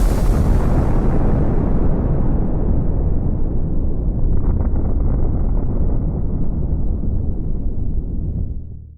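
A huge, sustained roaring nuclear bomb blast fills the whole clip, a deep rumbling wall of sound that holds steady for several seconds before fading away at the end.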